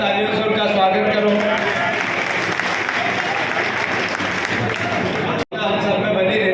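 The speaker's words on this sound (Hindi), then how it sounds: "तालियों से उनका स्वागत करो।" A crowd at a Congress party workers' meeting applauds to welcome a speaker, dense continuous clapping that fills the hall, breaks off sharply and then resumes.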